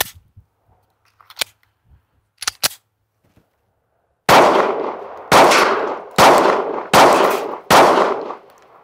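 A Sig Sauer P365 pistol fires five loud, sharp shots at an even, quick pace, each with a short ringing decay, after a few faint clicks and handling noises.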